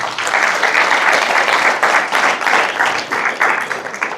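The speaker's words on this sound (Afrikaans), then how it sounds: "Kan ons 'n hande klap vir die Here gee?" A church congregation claps for the Lord during a sermon, a steady, loud burst of many hands clapping together with a slightly rhythmic pulse throughout.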